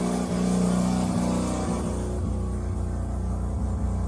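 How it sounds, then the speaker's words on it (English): A Mazda RX-3 rotary engine idling at slightly raised revs, a steady, close, loud burbling drone with a fast, even pulsing beat and faint rhythmic ticks, running alone without talk. "I'll see what it's revving at now."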